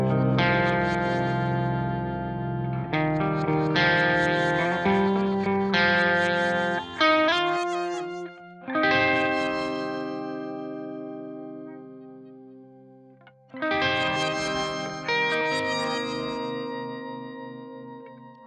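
A Crystals block pitch-shift effect doubles sustained synth chords with voices an octave up and an octave down, panned wide, giving a shimmering, chorused tone across several held phrases with short gaps.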